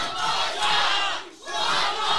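Wrestling crowd at a live match chanting loudly in unison, a dense, roaring mass of voices that dips briefly near the middle before swelling again.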